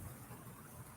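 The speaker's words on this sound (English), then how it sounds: "You can hear the rain" Rain pouring during an Arizona monsoon storm, a dense, steady hiss of falling water with low rumbling underneath, no voices.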